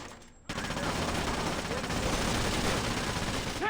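Rapid automatic gunfire in the Splinter Cell: Conviction video game erupts after a brief pause and continues as a dense, loud, sustained burst.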